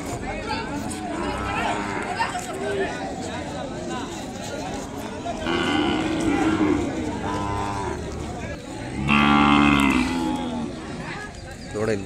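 Cattle and calves at a busy village livestock market in Kodada, Telangana, lowing repeatedly in loud, drawn-out moos, some near and some farther off, over a constant crowd murmur and chatter.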